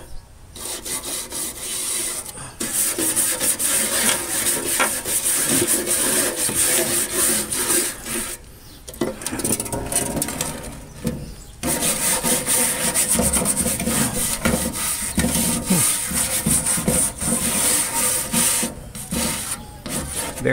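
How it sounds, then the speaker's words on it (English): Harsh, continuous scraping of rust off a metal Craftsman workbench, close and loud in long rasping strokes, with brief pauses between passes. "Let me scrape this off some more"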